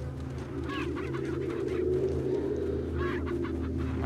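Fowl calls in Resident Evil 4 (GameCube version), clucking and honking bursts over a steady droning game background, moderately loud and continuous throughout.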